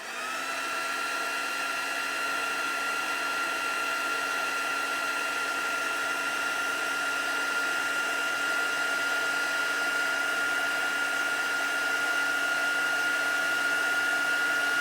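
Electric heat tool blowing to melt embossing powder on a card, a steady loud fan whine with a constant pitched hum that starts abruptly and runs unbroken throughout.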